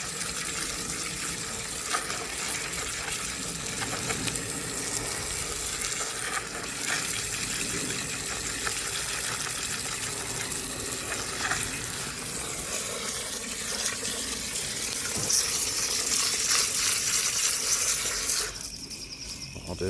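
Tap water runs steadily into a container while new stones are rinsed for a hydrangea planting, a continuous close splashing wash with faint stirring and no talk.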